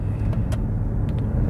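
A 2025 Hyundai Kona EV Premium (48.6 kWh, 156 hp) pulls away hard in sport mode, giving only a low, steady road and motor rumble with faint tyre noise and no engine note.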